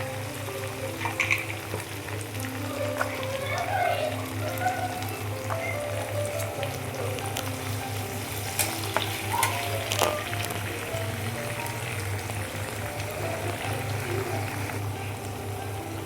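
Green peas frying in a hot pan for a restaurant-style paneer veg pulao, with a steady close sizzle and occasional scrapes of stirring throughout, no voices.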